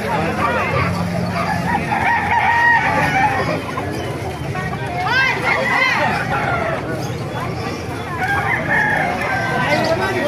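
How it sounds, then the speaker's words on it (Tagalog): Chickens and roosters crow and cluck at a Tuesday market in Calumpit, with repeated crows rising over a steady crowd babble and voices nearby. "Maraming manok kayo dito sa Kalumpit, eh."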